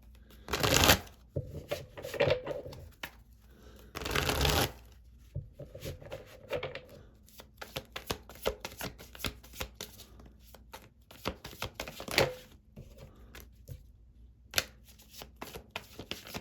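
Tarot cards being shuffled close up in several crisp riffling bursts with softer shuffling and tapping between them, no voices.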